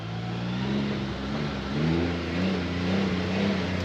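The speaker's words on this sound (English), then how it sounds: "I'm kind of trying to rev it with my foot to get it to buck up and down" A CF Moto U10 Pro UTV engine revs steadily at low speed, its note rising and falling in gentle surges, close and moderately loud with no talking.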